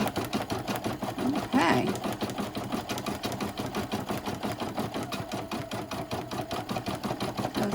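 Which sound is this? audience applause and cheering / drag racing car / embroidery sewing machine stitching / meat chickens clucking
embroidery sewing machine stitching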